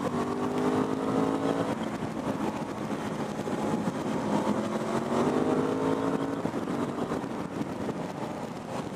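A 2018 Aprilia Dorsoduro 900 supermoto motorcycle drones steadily while being ridden, its engine note rising and falling in pitch over wind rush, with no talking.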